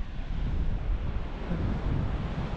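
Waves washing onto a quiet, empty beach with flat seas, a continuous low rumbling surge mixed with gusty wind buffeting the microphone throughout.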